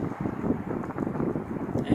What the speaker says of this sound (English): I so hope the highway noise and the wind isn't going to ruin this video.